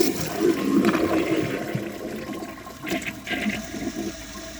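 A ProFlo Gilpin toilet with a nearly full tank flushes nearby, a rushing swirl of water that gurgles and drains over a few seconds.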